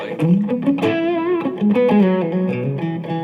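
Taylor T5Z Custom Koa electric guitar played through an electric amp with warm, mildly distorted tone, a short run of sustained, buzzing notes close up.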